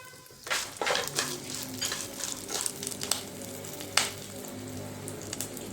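Peanuts and cashews fry in hot oil with green chillies for lemon rice, giving a lively, close sizzle with bursts of spattering and a sharp clack of the spoon against the pan.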